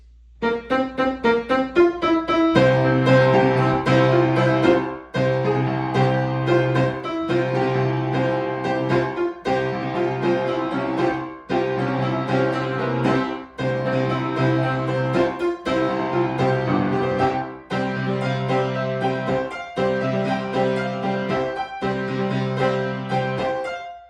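Solo piano plays the Heaven's Feel Medley from Fate/Stay Night at a slightly quicker tempo, with full sustained chords and a steady repeating rhythmic pulse that runs unbroken for over twenty seconds, with no speaking.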